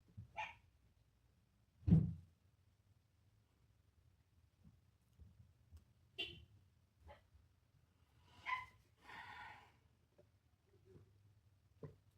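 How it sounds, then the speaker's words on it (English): A few scattered dog barks, sharp and isolated, rise out of quiet background at moderate distance, with long gaps between them. "I'm just going to wait till the dogs stop barking."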